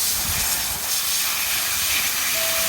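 Steady broadband hiss of a water spray rinsing a dirty part of a Lasko pedestal fan, continuous and fairly loud throughout with no voices.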